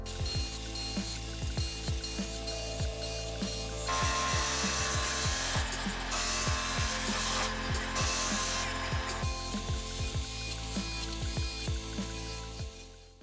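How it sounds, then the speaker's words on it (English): A wood lathe spins a mallet handle blank while a roughing gouge cuts into it, giving a steady motor hum and a rapid, rhythmic series of bumpy tool chatter. Louder, rougher cutting swells in the middle, and no one speaks. "I'm just nervously trying to get the roughing gouge started"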